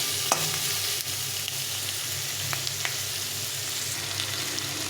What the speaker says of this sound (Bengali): আলুগুলো দিয়ে পেঁয়াজ আর আলুটাকে একসঙ্গে সুন্দরভাবে ভেজে নেব।